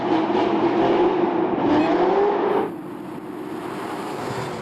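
A Corvette ZR1 accelerating hard indoors on a slick floor, its loud engine roaring and rising in pitch close by, then dropping abruptly to a lower steady drone as it backs off.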